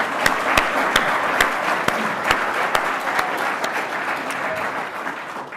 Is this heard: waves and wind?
no